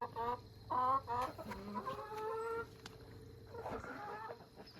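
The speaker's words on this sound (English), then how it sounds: "especially with the hens, they're so excited for the new fresh grass when the thing moves" Hens clucking in a mobile barn setup as they reach fresh grass, several short clucks in quick bursts, fairly close, over a steady low hum of background noise.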